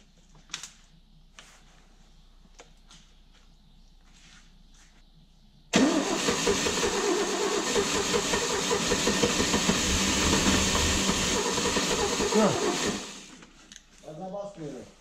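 An old Mercedes 230.6 left abandoned in a dusty garage for 20 years cranks and suddenly catches, then runs loudly and roughly with rising revs before dropping away. Voices talk before and around it.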